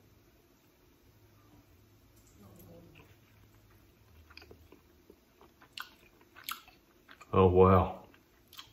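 Quiet, close mouth sounds of chewing a juicy bite of spatchcock chicken smoked with Bear Mountain sweet BBQ pellets on a Bullseye grill, followed by a short, louder exclamation from a voice.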